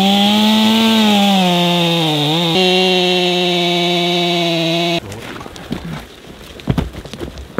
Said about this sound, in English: So all right, let's bring the chainsaw out.